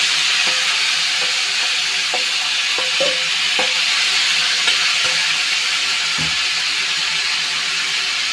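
Meat sizzles steadily in hot oil with whole garam masala, a constant loud frying hiss with occasional soft clicks of stirring throughout.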